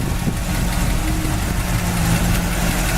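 A 1963 Chevy Impala with a factory 283 four-barrel V8, headers and an Edelbrock carburetor idles steadily, a loud, close, even rumble with no speech.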